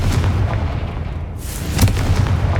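A Confringo blasting spell in the video game Hogwarts Legacy goes off with loud, heavy booming explosions, a deep rolling rumble and a second burst partway through.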